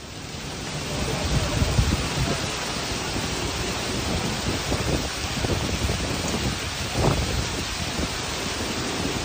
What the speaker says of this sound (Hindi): बेंगलोर में बहुत तेज बारिश